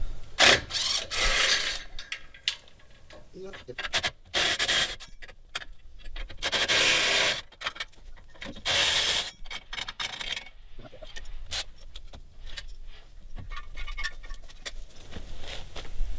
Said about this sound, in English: The first thing we're going to do is we're going to take this winch post off.